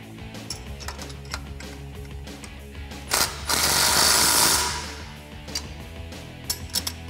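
Ratchet socket wrench with a 13 millimeter socket tightening a bracket for a Rough Country lift kit on a Jeep Wrangler TJ, a rapid clicking ratchet running close and steady through the whole stretch, with metallic clinks and a brief louder rush midway.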